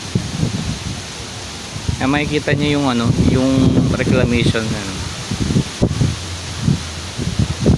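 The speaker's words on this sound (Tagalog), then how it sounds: "malakas ang hangin dito sa Mall of Asia" Strong wind gusts by the bay at Mall of Asia roar steadily as a broad rushing noise, with someone talking over it in the middle of the gusts.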